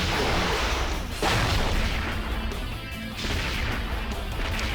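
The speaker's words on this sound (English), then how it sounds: "So if you go to the edges of the screen, you get shot by tanks" Tank cannons fire at the player's character in the Evangelion brawl game Shinseiki Evangelion Battle Orchestra, a dense, loud barrage of booms and crashes that keeps going without a break.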